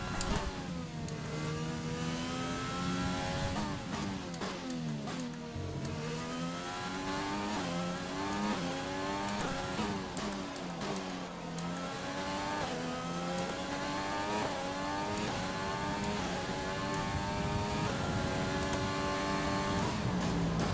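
Race car engine in F1 2020 screaming at high revs through a lap, pitch climbing and dropping repeatedly with gear shifts across the corners, loud and continuous throughout with no talking.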